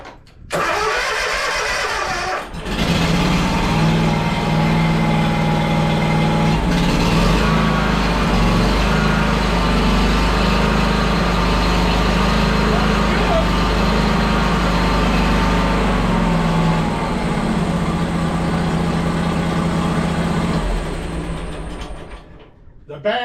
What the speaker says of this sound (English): I think I will crank it up for you to hear that